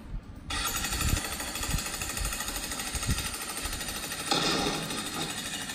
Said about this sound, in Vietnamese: lựa chọn cuối cùng, máy khoan.